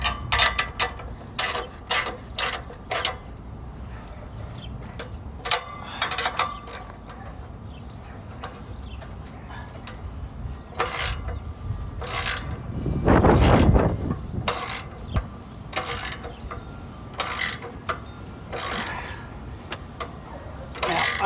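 A ratchet is tightening a muffler band clamp on a fourth-generation Firebird or Camaro. The pawl clicks come in quick, irregular bursts with short pauses, close by, over steady background noise.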